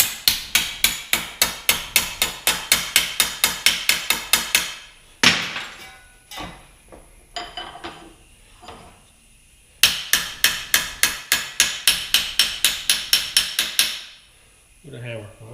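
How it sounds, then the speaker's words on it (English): Rapid, evenly spaced hammer blows ring out on metal while fabricating a car exhaust, in two long bursts, with scattered clanks and scraping in the pause between. "With a hammer."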